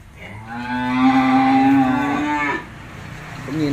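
Cattle at a cattle farm in Tra Vinh let out one long, loud moo with a steady drawn-out tone lasting over two seconds, then a short rising call begins near the end, close to the listener with no talk.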